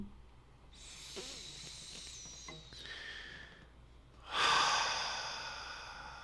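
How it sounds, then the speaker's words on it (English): A person takes a slow deep breath, a soft drawn-in inhale followed by a louder, airy exhale, close and quiet with a faint whistling tone in the background. "So take a deep breath with me."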